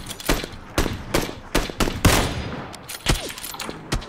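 PUBG gunfire rings out in loud, sharp bursts at a steady, roughly half-second rhythm, with single cracks and short volleys following one another over the full stretch without any voices.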